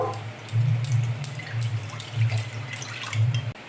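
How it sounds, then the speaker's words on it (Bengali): Water poured into homemade yogurt while making buttermilk, a light trickle and splash heard close over a low background hum. "কিছুটা জল দিয়ে দেব"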